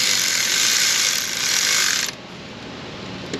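An electric ratchet whirs loudly and steadily for about two seconds during engine work on an LB7 Duramax, then cuts off, leaving quiet shop ambience and a brief click.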